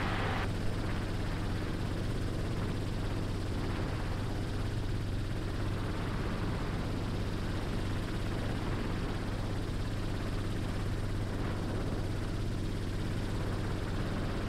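A helicopter flies over the Great Salt Lake, its engine and rotor drone steady and loud from close range, as if heard from the cabin. The low hum holds without a break and no voices come through.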